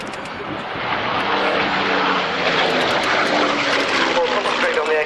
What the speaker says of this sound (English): At the moment, that's the Hurricane